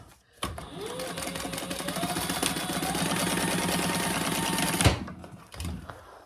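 A sewing machine runs steadily for about four and a half seconds, restitching a fabric passport pocket on a family travel organizer, with a close, continuous whirring drone that stops abruptly.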